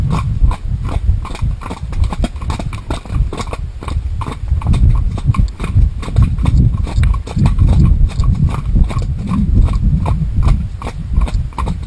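A horse trots up a dry forest road, its hooves clopping loud and close in a steady, continuous rhythm.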